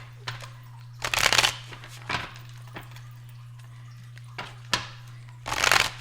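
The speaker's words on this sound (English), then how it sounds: "I wanted to shuffle the deck really good before we got the cards out here." A deck of cards is shuffled in several quick riffling bursts, crisp, close-up flurries separated by short pauses over a faint steady hum.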